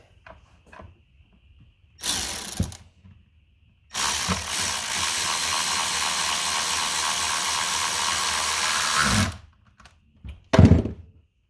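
Ratchet tightening a bolt, with a short burst of clicking followed by a long, loud continuous whirring run of several seconds, then a final sharp clack, close up with no talk.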